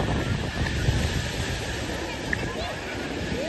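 Sea waves wash continuously onto Girgaon Chowpatty beach in the evening, a steady broadband surf roar mixed with wind buffeting the microphone, with a faint voice or crowd murmur underneath.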